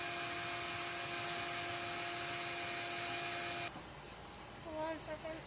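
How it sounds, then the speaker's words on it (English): A vacuum cleaner runs with a steady, loud tonal whine while sucking up scale from a whole-house humidifier unit, then cuts off abruptly partway through, leaving quieter handling sounds. "we're just taking the moment while we have the pad out to vacuum up some of the scale that would have built up"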